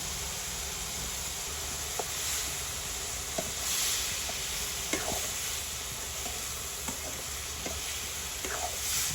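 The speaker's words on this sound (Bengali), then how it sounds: "দিয়ে দিচ্ছি রসুন কুচি পেঁয়াজ কুচি একসাথে হলুদের গুঁড়া" Chopped garlic and onion with turmeric powder fry in a pan at a village cooking setup, a steady soft sizzle with occasional stirring clicks and scrapes, fairly quiet and without talk.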